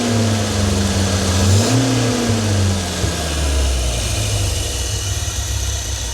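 A Volvo 1800S engine runs steadily and close by, with a low, even drone that briefly rises in pitch as the throttle is blipped and then settles back to a smooth idle with no voices.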